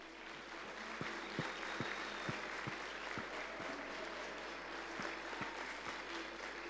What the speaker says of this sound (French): on peut déjà tous les applaudir